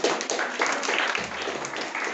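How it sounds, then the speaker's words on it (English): Audience applause at a gathering, a steady wash of many hands clapping, moderately loud and continuous for a couple of seconds. "Give an applause for them"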